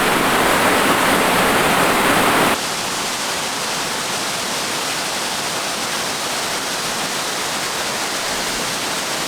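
A waterfall in Australia roars in a steady, dense rush of falling water, heard close and loud at first, then continuing slightly softer and more distant.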